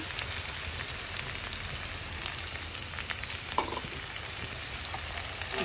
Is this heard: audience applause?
no